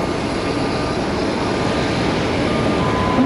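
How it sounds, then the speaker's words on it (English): An Airbus A220-300 airliner on its takeoff run at Tampa airport, a steady, loud broadband engine roar that holds constant throughout with no voices. "I see an A220 300 from Foxy Moxie down there. They're going to be the next takeoff on 19er right."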